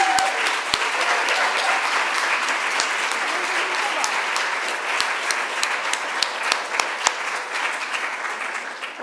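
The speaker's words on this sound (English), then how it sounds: "can we all give them a round of applause for these MCs?" Sustained crowd applause fills the room at a synagogue tribute event for the emcees, steady and dense clapping with a few sharper individual claps standing out throughout.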